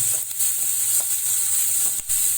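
Banana flower balls for kuzhambu fry in hot oil with a close, steady sizzle and a few soft stirring knocks.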